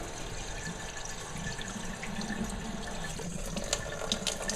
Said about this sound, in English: I would open up the cold and then reach under and slowly start opening up the stop to blow anything out of it